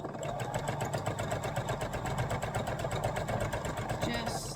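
A free motion sewing machine stitches over scrap fabric with a fast, even needle chatter that runs steadily throughout at a moderate level, with a brief faint tone near the end.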